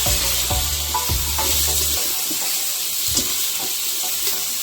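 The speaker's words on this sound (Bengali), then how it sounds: "আলু ভাজছি, আর অল্প একটু নুন দিয়ে ভেজে নেব" Potato pieces fry in hot oil with turmeric and a little salt, a dense continuous sizzle close by, punctuated by several soft stirring knocks early on.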